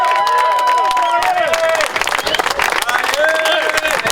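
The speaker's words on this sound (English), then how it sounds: "let's give Brian a round of applause" A union rally crowd of Amazon workers outside a San Francisco warehouse claps and cheers, loud and close, while voices shout over the applause.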